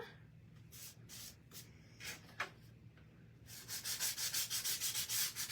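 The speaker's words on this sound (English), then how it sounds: "We're going to sand these down just a smidgen." Craft pieces sanded down by hand, giving a series of dry rasping strokes that start sparse and faint, then settle into a steady, louder back-and-forth rhythm close by.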